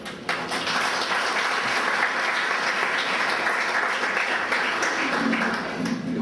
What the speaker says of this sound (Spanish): Lo recibimos con fuertes palmas de nuevo.